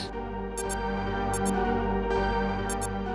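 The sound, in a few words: alarm clock beeping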